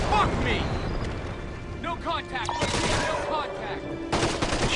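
Gunfire in the stealth shooter Splinter Cell Conviction, bursts of shots and booms mixed with game effects, loud and busy, while a player talks over the action.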